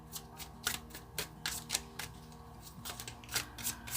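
Triple Goddess Tarot cards being shuffled by hand, a series of quick riffling bursts in an uneven rhythm, close and soft, over a faint low background hum.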